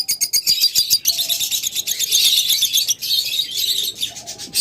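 Lutino pet birds chirp busily and continuously, a dense stream of bright, high tweets from several nearby birds, with no talking.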